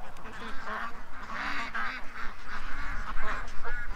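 A flock of ducks quacking and honking together in a busy, overlapping chorus, fairly close and steady throughout.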